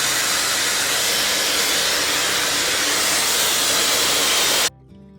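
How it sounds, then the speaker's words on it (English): A Dyson Supersonic hair dryer fitted with a smoothing nozzle blows a loud, steady rush of air for several seconds, then cuts off abruptly into near silence. "the smoothing nozzle, it actually delivers wide, smoother airflow for a smoother finish while you dry out your hair"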